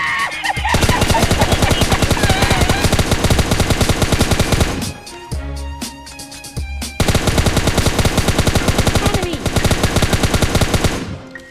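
Rapid bursts of automatic gunfire in PUBG Lite, loud and continuous, with a brief pause of scattered shots midway before the firing resumes.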